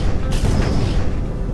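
A loud, dense boom from an explosion in a video game fills the whole moment, a sustained roar with a sharp burst near the start and no voices over it.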